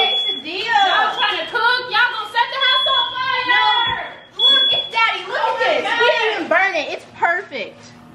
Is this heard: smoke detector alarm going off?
yes